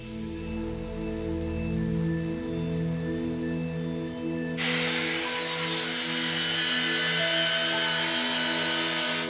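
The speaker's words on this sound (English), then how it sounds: "The polishing is done with flexible diamond pads" A power tool polishing a stone sculpture with flexible diamond pads of resin-embedded diamond grit gives a steady, close, humming whine at first, then a harsh, bright grinding rasp that continues to the end.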